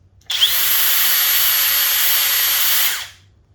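A Flex cordless impact driver in drill mode whirs at high speed for about three seconds, a steady, bright hiss that starts abruptly and winds down smoothly, close up.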